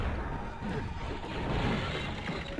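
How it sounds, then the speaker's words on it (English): A console is smashed in the X-Men Legends II video game, a short dense crash with a crunching, shattering texture that fills the brief moment at close range. "Console smashed, and that should be everything."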